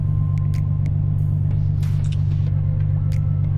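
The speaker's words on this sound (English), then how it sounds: "Driving stick shift, hearing the sound of the car" A Nissan 350Z with a manual gearbox on a night drive: a steady, low engine drone and road rumble from inside the cabin, with a few faint clicks on top.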